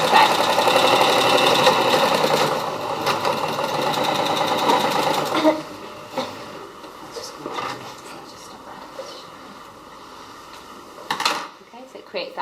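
A sewing machine stitches freehand quilting over fabric, first in a fast, steady rattling run for about five seconds, then in short, quieter bursts and pauses, with a voice talking over it.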